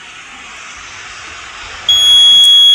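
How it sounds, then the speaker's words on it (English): A fire alarm from a manually activated Kidde Aries Netlink call point sounds after a steady noisy hum, starting abruptly near the end with sustained high tones and a loud electronic ring. "as you can see the manual alarm is activated"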